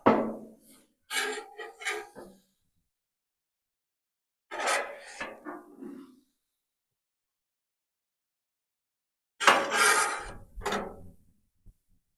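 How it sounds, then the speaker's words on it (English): A spatula slides smashburger patties across a Camp Chef GridIron 36 griddle and onto a tray, producing three separate bursts of close scraping and clatter split by silent pauses. "I'm going to slide those two patties together, put them here on our tray."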